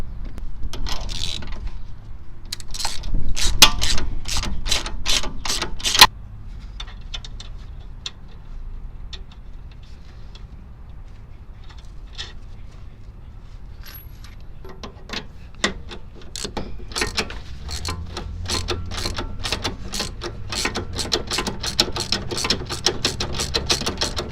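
Ratchet snugging up the nuts on car sway bar end links, bursts of rapid close clicking that pause and resume several times, louder near the start and end, with no talking.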